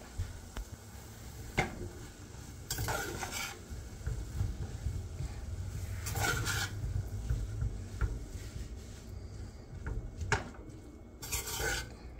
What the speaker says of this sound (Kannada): coconut, then we'll roast it for a few minutes